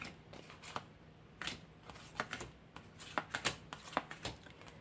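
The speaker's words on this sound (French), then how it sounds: "je suis obligée de mettre toutes les cartes dans l'ordre" Oracle cards being handled and sorted back into order: soft, close card slaps and shuffling flicks in an irregular rhythm, faint and without any talking.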